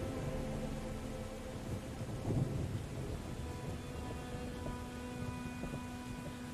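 Steady rain hisses throughout a battle in the Thrones of Britannia video game, with a rumble of thunder swelling briefly near the middle and a low tone of game music underneath.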